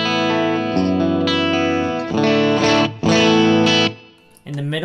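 Bright, distorted electric guitar played through the bridge pickup of a set of Lambertones pickups, with chord strums and sustained notes under effects and reverb, close and loud, pausing briefly near the end.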